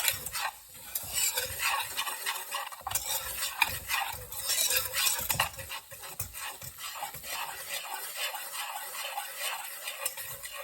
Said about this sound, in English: then we need to whisk this constantly until it's medium brown